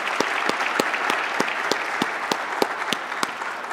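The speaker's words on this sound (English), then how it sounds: "Please give them and all our sponsors a round of applause" Audience at an Emory poetry reading applauds warmly, a full wash of clapping with a few distinct loud individual claps standing out in a loose rhythm, sustained for several seconds with no talking.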